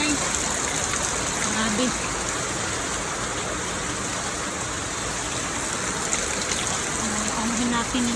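Heavy rain pours in a dense, steady roar on a wet morning, close and constant throughout, with someone speaking briefly over it.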